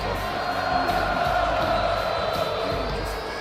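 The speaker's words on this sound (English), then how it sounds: "The crowd is still singing for Seth Rollins out there." A video game arena crowd at a WWE 2K26 Raw show cheers and chants for Seth Rollins, a steady, dense roar of many voices that fills the whole clip at fairly loud level.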